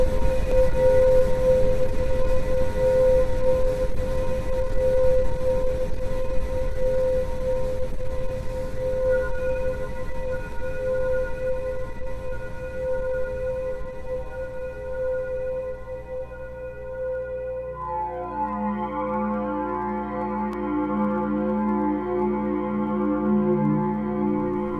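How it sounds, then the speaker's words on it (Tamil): Eerie space sound said to come from the dwarf planet Pluto: a steady hissing, sand-like wash with a sustained tone, shifting near the end into rising, wavering pitches, continuous and fairly loud with no voices. "இந்த புளூட்டோல இருந்து வெளிவரக்கூடிய சத்தம் இந்த மாதிரி தான் இருக்கும்."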